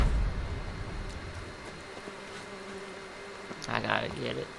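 Bees buzzing in The Witcher 3 around a ruined griffin's nest, a steady insect drone that rises into louder, closer buzzing near the end.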